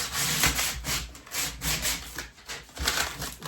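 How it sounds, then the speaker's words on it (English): Wood sanded by hand with coarse sandpaper, loud rhythmic back-and-forth rasping strokes, close up and steady. "we're just going to work this up and down, get it somewhat smooth, work our way up to a more finer sandpaper"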